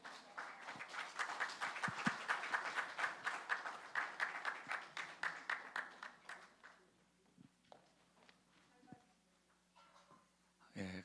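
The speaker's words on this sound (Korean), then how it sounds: "우리 강사 목사님 등단할 때 크신 박수로 환영해 주시기 바랍니다" A church congregation at a joint revival worship service claps in welcome of the guest pastor, a dense, steady burst of applause for about six seconds that thins out into scattered claps and quieter sounds.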